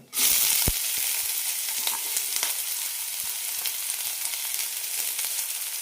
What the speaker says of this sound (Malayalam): കടുക് പൊട്ടിയിട്ടുണ്ട് ചെറുതരിഞ്ഞ സവാള പച്ചമുളക് കറിവേപ്പില ഇടാം